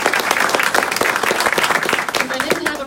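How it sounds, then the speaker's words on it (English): Audience applause at the opening of the Valley Regional Library community hub in Annapolis Royal, a dense, steady clapping from a crowd filling the whole clip. "Round of applause."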